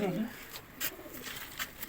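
Soft coos of purple-breasted pigeons repeat a few times at close range in a coop, with faint rustling and a low murmur of voices in the background.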